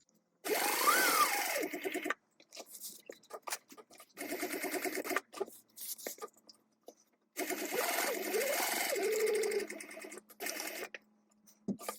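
Sewing machine stitching webbing onto a tote bag, running in long steady bursts with short pauses between seams as the stitch line pivots and turns; close and fairly loud, with no talking.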